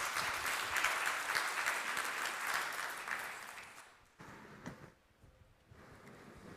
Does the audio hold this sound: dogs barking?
no